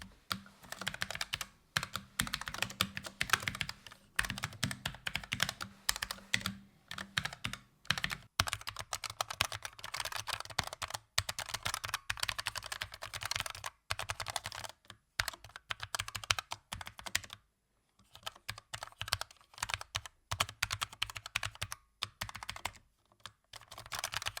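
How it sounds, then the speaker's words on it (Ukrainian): Typing on a GamePro MK230R wireless low-profile mechanical keyboard, a rapid, steady stream of crisp keystrokes heard close up and alone, broken by a few short pauses. "Залишається найцікавіше послухати тайпінг клавіатури"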